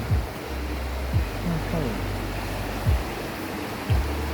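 Stream water flowing along a natural canal in Nakhon Nayok, Thailand, a steady broadband rush that continues throughout, with a voice talking over it at moments.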